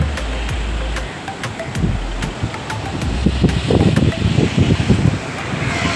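Calm sea waves roll onto the shore beside a beach road at midday, a steady wash of surf mixed with wind buffeting the microphone while someone talks over it throughout.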